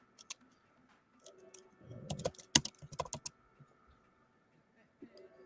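Quick bursts of keyboard typing, a cluster of clicky keystrokes in the middle, quiet and close with short pauses before and after.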